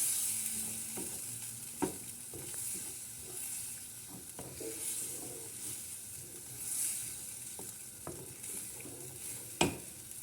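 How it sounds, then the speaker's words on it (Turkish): Cold milk stirred into toasted flour in a hot pan until creamy, a soft continuous sizzle and hiss with occasional spoon scrapes and taps against the pan. "bir su bardağı soğuk sütü ilave ediyorum ve krema haline gelinceye kadar karıştırıyorum."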